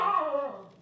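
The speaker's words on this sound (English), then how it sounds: "He's barking at the neighbor's dogs." A pet dog at home in Toronto lets out one brief, drawn-out bark with a whining edge, close and fairly loud, aimed at the neighbor's dogs.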